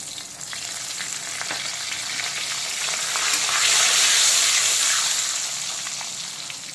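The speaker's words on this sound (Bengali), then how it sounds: "এখন পমফ্রেট মাছ আর আলু ভাজার তেলেই দিয়ে দেব কালো জিরে আর তেজপাতা ফোড়ন।" Pomfret fish and potato pieces sizzle loudly in hot frying oil with nigella seeds and bay leaf, a steady hiss that swells midway and then eases.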